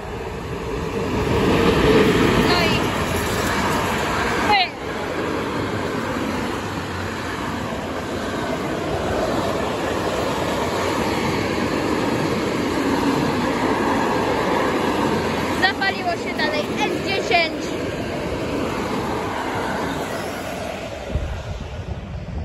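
ET22 electric locomotive hauling a train past Warszawa Rembertów station: a loud steady rumble of wheels and wagons rolling by for over twenty seconds, with brief squeals and clatter from the rails.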